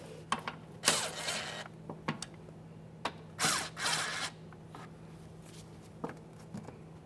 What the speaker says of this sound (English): I'm going to reinstall my shield with my two 10mm mounting bolts